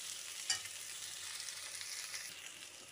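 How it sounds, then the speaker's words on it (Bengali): Onions frying in oil in a pan for a Bengali rui fish curry with potato and pointed gourd, a steady close sizzle with one brief stirring clatter and no talk. "পেঁয়াজগুলো আমার ভাজা হচ্ছে"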